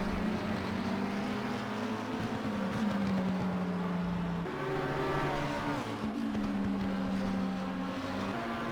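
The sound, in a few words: race car engine in Assetto Corsa Competizione video game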